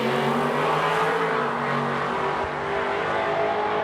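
A 1996 Chevy S10 step side and a Chevelle drag racing down the strip: a loud, sustained engine roar that holds steady throughout, heard from a distance over the track.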